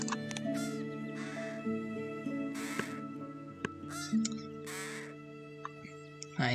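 Crows cawing from the Wingspan digital board game, several harsh, raspy calls in separate bursts over a steady background music bed, moderately loud and close.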